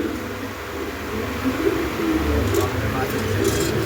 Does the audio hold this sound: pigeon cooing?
yes